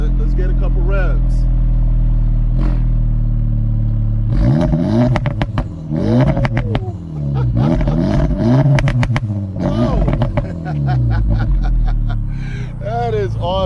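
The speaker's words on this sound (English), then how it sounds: "Let's get a couple revs." An engine is blipped repeatedly, several sharp revs rising and falling over a loud idle rumble, with a voice briefly talking at the start and end.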